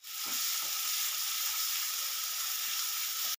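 Onion paste hitting hot oil in a pan while cooking a Bengali rui fish curry, a loud, steady sizzle and hiss with a couple of soft stirring knocks at the start, no talking.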